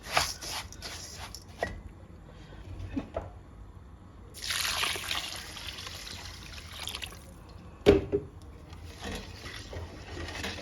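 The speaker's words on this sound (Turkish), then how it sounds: "Şöylece suyumu koydum." Water is poured into a pot of Ottoman bulgur pilaf in a home kitchen, giving a soft trickling, splashing flow with a few small clinks, fairly faint and without talk.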